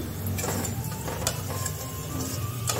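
Moong dal puli pitha fry in shallow oil over medium-low heat, a soft steady sizzle with occasional light scraping and clicks, fairly quiet and close.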